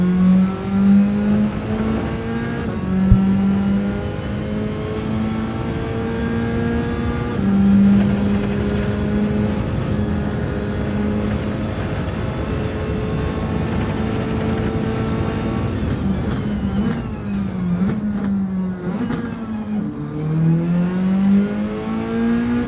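Race car engine in Gran Turismo 7 on the Grand Valley track, a loud sustained whine climbing and dropping through gear changes at full speed, with rising revs and a sharp downshift near the end, no talk.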